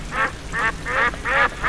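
Four distinct, loud duck quacks sound in a steady rhythm as an effect over a game stream, each a short nasal burst separated by brief gaps.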